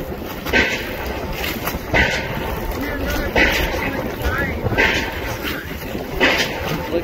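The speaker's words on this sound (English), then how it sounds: "There's a boat trying to tow that sailboat." A small boat's engine labours to tow a sailboat through high wind on the Intracoastal Waterway, a steady rumbling drone with heavy gusting wind noise and periodic surging swells, close and fairly loud throughout.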